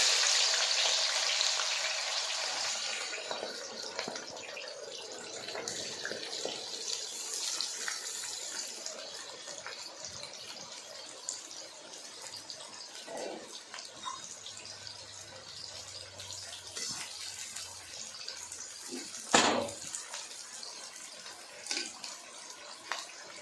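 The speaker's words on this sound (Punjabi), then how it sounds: "ਕਰੇਲੇ ਆਪਾਂ ਬਹੁਤ ਤੇਜ਼ ਸੇਕ ਦੇ ਉੱਤੇ ਫਰਾਈ ਕਰਾਂਗੇ" Bitter gourd fries in hot oil over high heat. A loud broadband sizzle is strongest at first and gradually softens, with occasional knocks and clatters of a utensil against the pan.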